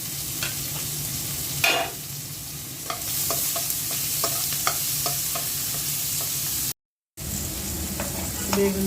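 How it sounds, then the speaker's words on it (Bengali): Onions sizzle in leftover fish-frying oil in a home kitchen, a steady close hiss broken by scattered spatula scrapes and stirring clatter, with no talk. "মাছ ভাজা তেলের মধ্যে পেঁয়াজ দিয়ে দিচ্ছি।"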